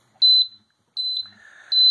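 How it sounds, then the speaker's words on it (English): RKI GammaRAE II R radiation detector sounding its low alarm near a gamma source, three loud high-pitched electronic beeps in a steady repeating pattern, with faint background noise between them. "We're getting an audible alarm. This is the low alarm,"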